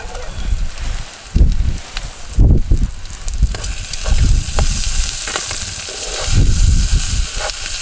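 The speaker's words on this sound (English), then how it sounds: "We like to cook the onions out for ages, especially with a curry." Onions frying in a pan on a Trangia camping stove during a cold wild camp, giving a steady close sizzle with bursts of louder crackle and stirring scrapes, no talking.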